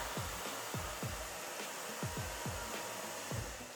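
A hair dryer blows on a woman's hair during a styling makeover, a steady, close, loud whooshing roar that pulses rhythmically as the airflow is swept back and forth.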